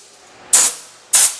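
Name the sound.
air blower spraying compressed air into welder louvers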